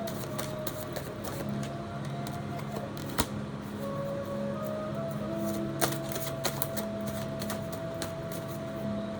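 Tarot cards riffle and snap in quick irregular bursts, close by, with light tapping clicks scattered through a quiet hum.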